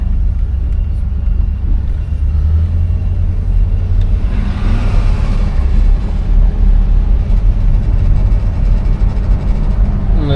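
A 1973 Buick Electra 225 cruising on the road, with a steady low engine and tire rumble that stays loud and even throughout, smooth with no sharp revving.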